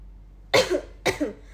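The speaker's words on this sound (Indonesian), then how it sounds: "Maaf ya guys, aku batuk." Two short, sharp coughs about half a second apart, close to the microphone in a quiet room.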